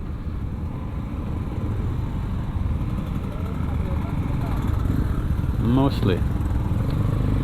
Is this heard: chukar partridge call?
no